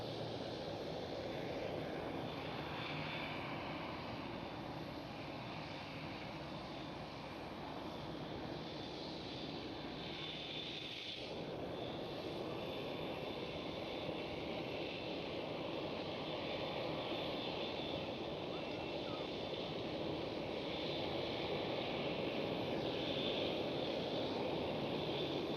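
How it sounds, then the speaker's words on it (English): A Transavia Airbus A321neo airliner departs the runway at Amsterdam Schiphol, its engines building into a sustained distant roar that swells steadily louder without any talk. "Transavia A321neo, departure runway"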